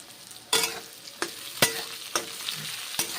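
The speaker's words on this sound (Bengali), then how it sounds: "এখন কসৌরি মেথি পাতা দিয়েছি এবং পটলগুলোকে ভেজে নিচ্ছি" Pointed gourd pieces frying in a pan with dried fenugreek leaves, a steady sizzle broken by five sharp scraping stirs spaced about half a second to a second apart, close and fairly loud with no talking.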